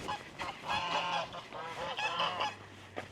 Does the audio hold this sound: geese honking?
yes